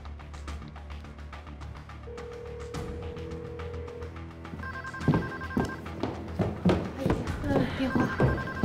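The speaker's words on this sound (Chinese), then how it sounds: "电话！" A telephone rings in an indoor domestic scene, its repeated electronic tones rising clearly over background movement, thumps and a few spoken words.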